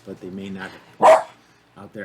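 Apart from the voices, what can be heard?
dog barking in the background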